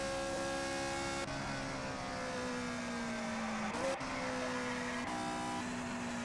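Race cars in an IndyCar-style racing video game circle the Trenton oval, a steady loud engine drone with shifting pitch as several cars pass through the corners, with brief gear changes and tire scrub.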